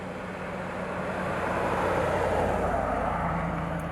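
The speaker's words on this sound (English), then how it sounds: "Listen to the rumble as it's going down the road." A 2021 Jeep Wrangler Rubicon 392 with a 6.4-liter V8 rumbles steadily while driving down the road, a low continuous engine drone with road noise, swelling slightly midway, with no talk.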